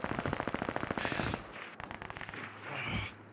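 Rapid bursts of video game gunfire crackle loud and close during a multiplayer battle-royale match, a fast stuttering string of shots at first, then scattered single pops and a brief whine of effects.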